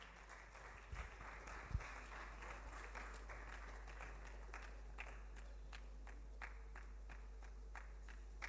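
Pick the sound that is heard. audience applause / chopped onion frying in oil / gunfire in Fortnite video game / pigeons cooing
audience applause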